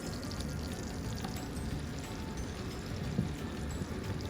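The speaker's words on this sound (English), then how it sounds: "I'm gonna go ahead and add in some of these Andouille sausage right here." Andouille sausage dropped into a pan of hot butter and oil, giving a steady, moderate sizzle and crackle with one slightly louder pop near the end and no talking.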